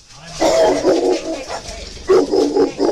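A dog barks loudly and close at someone entering a room, two rough bursts of barking separated by a short pause.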